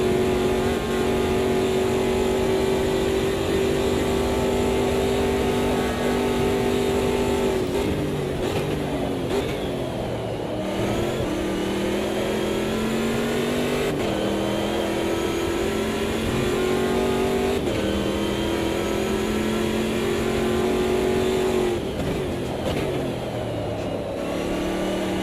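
Race car engine in the sim racing game Automobilista 2 during a championship race on a mountain circuit, droning steadily at high revs with pitch dips and climbs as the throttle lifts and reapplies through corners, loud and continuous with no talk.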